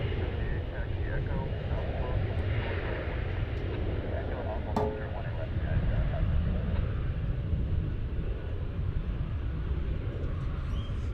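A Lufthansa airliner at DFW airport rumbles as a steady, loud jet roar in the distance that persists throughout, with a brief knock near the middle.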